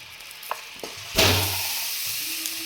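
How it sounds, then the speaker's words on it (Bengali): A couple of light taps, then a sudden burst of sizzling as jaggery hits a hot wok to melt, settling into a steady hiss. "প্রথমে কড়াইতে গুড়টা দিয়ে দিচ্ছি। গুড়টা আমার গলিয়ে নিতে হবে।"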